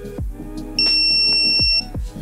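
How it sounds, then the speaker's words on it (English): An Outin Nano portable electric espresso machine gives a single sustained electronic beep as it powers on, clear and close, with a few soft mechanical clicks and knocks around it. "press the power button and hold until you hear a beep"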